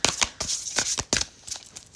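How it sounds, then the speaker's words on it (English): Tarot cards are shuffled by hand in quick, crisp riffling bursts, about six sharp flutters in two seconds, close and fairly quiet. "I'm going to take it off the top after Spirit tells me to stop shuffling."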